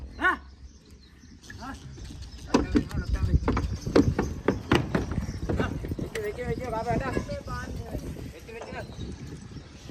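Horse hooves clip-clop on hard ground at a cattle farm during pre-Qurbani livestock handling, an uneven run of close, loud hoof strikes with voices talking and a dog barking and whimpering.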